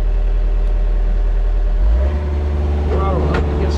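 A drum mulcher's engine running while mowing thick wet grass, a loud steady rumbling drone that deepens and strains partway through, with a voice speaking over it.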